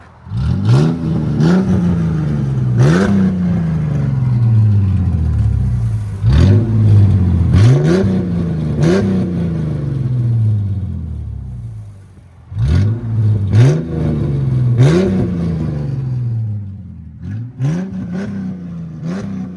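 A 2008 Ford Mustang 4.0L V6 with true dual straight pipes revs hard in repeated bursts, each blip climbing to a raspy roar and dropping back to a loud burbling idle, close and alone.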